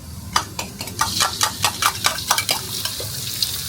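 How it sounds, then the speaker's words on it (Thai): Close, rapid scraping and clatter of a utensil stir-frying chili and garlic in a hot wok, with a soft sizzle underneath and uneven, quickening strokes. "คั่วพริกกับกระเทียมก่อนอันดับแรก"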